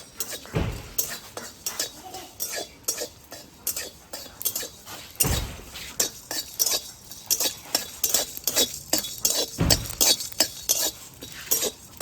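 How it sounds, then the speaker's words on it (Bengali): A spoon scrapes and stirs repeatedly in a metal pan, steady rhythmic scraping with occasional louder knocks and a faint sizzle underneath. "সমস্ত মশলাগুলো ভালো করে আবার ভেজে নেব"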